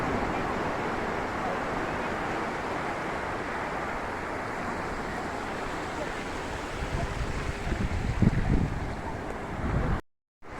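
Strong waves surge at Somnath Beach, a dense continuous wash of surf mixed with heavy wind buffeting the microphone. A slight swell comes near the end before the sound cuts off abruptly.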